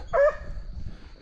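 A Treeing Walker coonhound on a raccoon hunt gives one short, clear bark at moderate distance, followed by quiet outdoor background.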